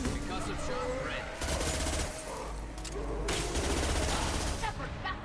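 In Mass Effect, a concussive shot ability fires as a dense, continuous crackle of gunfire-like blasts mixed with game combat noise, loud and close throughout.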